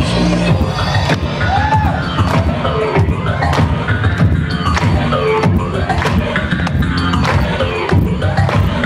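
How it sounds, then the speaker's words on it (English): A convention show audience claps and cheers, a dense, loud, continuous wash of applause and crowd noise with scattered whoops, steady throughout and close. "You don't clap louder than that."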